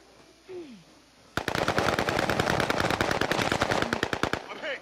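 Rapid machine-gun fire from Call of Duty Warzone breaks out suddenly after a quiet stretch with a faint voice, then rattles on in a loud continuous burst until near the end.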